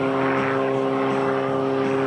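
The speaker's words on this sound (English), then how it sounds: "hovering the extra 300S high above us just like a helicopter." An Extra 300S aerobatic airplane hovers nose-up high overhead, its propeller engine a loud, steady droning buzz with strong harmonic tones held throughout.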